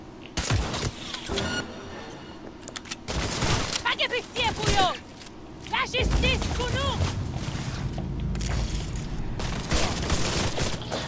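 Bursts of rapid gunfire and impacts come from a combat fight in the video game Cyberpunk 2077, with dense shots and whooshing effects layered over game sounds while someone talks over the action.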